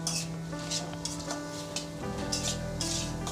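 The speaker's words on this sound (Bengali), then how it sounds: "এবার আমি গুঁড়ো মশলাগুলো কড়ার মধ্যে দিয়ে দেব, দিয়ে ভালো করে ভেজে নিতে হবে মশলাটা।" Ground spices frying in a wok for a yogurt cauliflower curry, with repeated brushy scrapes of stirring over a steady low sizzle and a humming tonal background.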